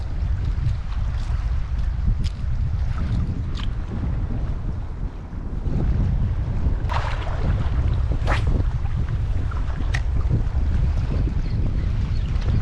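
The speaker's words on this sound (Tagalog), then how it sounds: "kahit malakas hangin" Strong wind roars steadily into the microphone, buffeting low and constant throughout, with faint clicks and knocks scattered on top and no talking.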